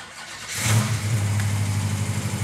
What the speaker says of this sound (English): that's a 392 cubic inch bad boy. Listen to that.